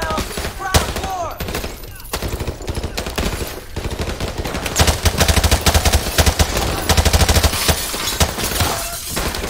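Loud, rapid machine-gun fire from Call of Duty 4: Modern Warfare Remastered rattles in dense, sustained bursts, with the rhythm of individual shots clearly audible.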